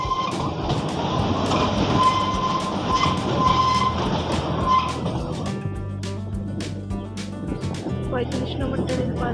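A train passes close by with a loud rolling rumble, rhythmic clickety-clack and a faint squeal, the sound shifting as the cars go past; a voice is audible under the noise.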